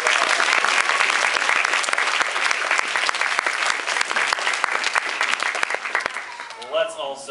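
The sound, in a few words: audience applause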